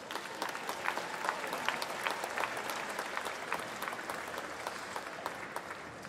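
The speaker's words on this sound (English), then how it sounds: "How about another round of applause for them?" Sustained applause from an audience honouring drum majors at a Scottish highland games juvenile final, steady dense clapping throughout with no talk.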